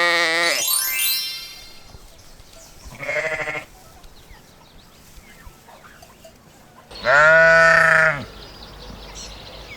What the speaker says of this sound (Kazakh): Қой.